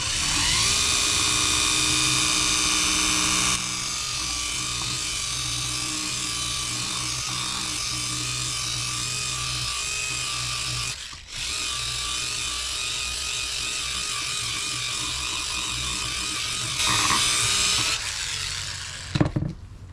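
A polisher at high speed buffs a painted JDM EF2 gas door, giving a steady, loud motor whine that holds for about twenty seconds. The whine briefly cuts out midway and swells near the end.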